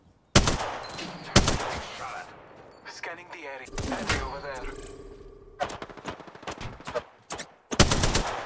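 Bursts of video game gunfire crack loudly and repeatedly, several sharp volleys spaced through the stretch with rapid automatic runs near the end, while a voice talks in between the shots.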